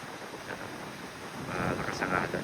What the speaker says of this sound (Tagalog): Yan, lakas yung alon.